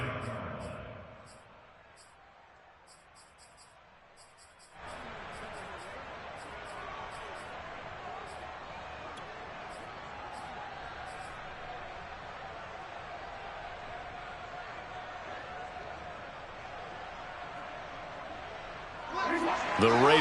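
A steady, diffuse stadium crowd roar from a football video game, after a quieter opening stretch, with faint beeping tones above it and a swell in loudness near the end.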